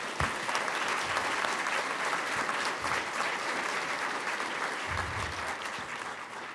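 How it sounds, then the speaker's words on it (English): Sustained applause from the audience at a university fall medals ceremony, a broad and even roar of many hands clapping at once, heard from a slight distance and holding steady throughout. "I'd like a round of applause for staff"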